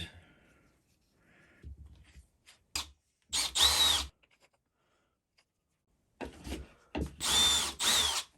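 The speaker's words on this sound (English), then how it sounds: "we'll drill a hole in that" A power drill whines through wood in short bursts, a couple of brief spins early, then several longer loud runs separated by quiet pauses.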